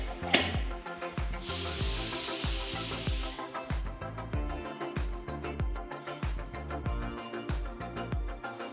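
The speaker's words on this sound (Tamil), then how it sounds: "மூடி லோ ஃப்ளேமில் வச்சு 6 விசில் வர வரைக்கும் வேக விடலாம்." A pressure cooker holding green gram on a low flame lets out a steady hiss of escaping steam for about two seconds, over rhythmic background music.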